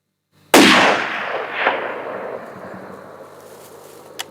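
A single loud rifle shot fired at a buck deer during a hunt rings out close by, with a sharp crack followed by a long echoing rumble that slowly fades across open country.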